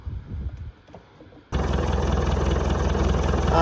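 A quiet low rumble, then a Land Rover Defender 200Tdi diesel engine kicks in abruptly and settles into a loud, steady, throbbing idle close by.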